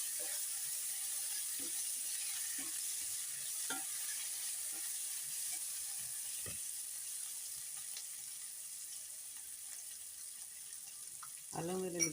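Ginger garlic paste fries with nearly browned onions in a pan for tomato rasam, giving a faint, steady sizzle. Occasional soft clinks of stirring break through, followed by a louder scrape at the end.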